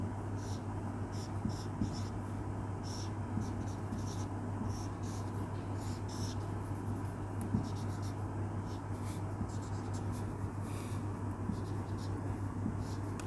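A pen or marker drawing the structure of uracil on a board or paper during a biology lesson: faint continuous scratching strokes over a steady low hum, with no talking.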